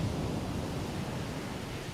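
Ocean waves crashing around lonely pieces of land, heard as a steady, muffled roar of surf with no voices.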